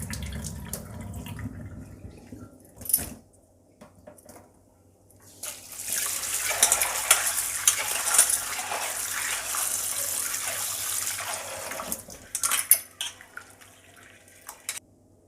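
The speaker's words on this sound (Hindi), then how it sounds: "तो अब मैं एक लास्ट टाइम इसको धोऊंगी और फिर हम इसे बॉईल करने रखेंगे।" Dal lentils being rinsed in a cooking pot, with water sloshing and pouring steadily through the middle stretch and a few scattered splashes and clinks before and after.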